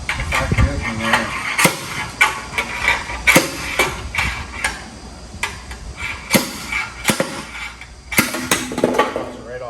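A small Harbor Freight slide hammer knocks against a dually pickup's hubcap, giving scattered sharp metallic clanks and taps at close range amid handling noise.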